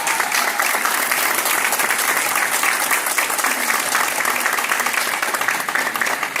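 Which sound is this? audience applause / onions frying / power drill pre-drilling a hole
audience applause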